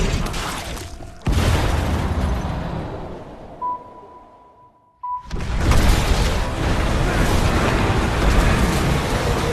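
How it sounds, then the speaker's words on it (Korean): A grenade explosion in a film sequence as an airship is torn apart and begins to crash: loud, broad blasts and rumbling destruction, a brief lull with a thin ringing tone, then another heavy roaring burst that carries on to the end. "결국 비행선은 수류탄의 폭발로 추락하기 시작했고"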